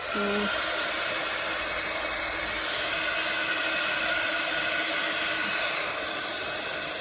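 A hair dryer blows steadily to dry a rice paper art journal page, a continuous close whooshing roar that holds at an even level from start to finish with no talking.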